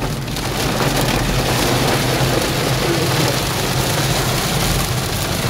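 Rain falls in the hills near Kotagiri on a road trip to Ooty, a dense, steady patter on surfaces that holds evenly throughout with no voices.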